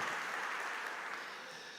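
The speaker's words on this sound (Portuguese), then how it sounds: "E dar um aplauso bem forte a Ele" Church congregation clapping together in a steady, dense wash of applause that fades slightly toward the end, with no voices on top.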